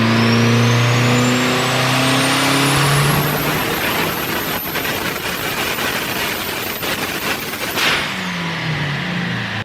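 A Dodge Spirit R/T with a swapped-in turbocharged SRT-4 engine revs hard on a dyno, climbing from a rough idle into a loud sustained wide-open pull for several seconds, then dropping back off throttle.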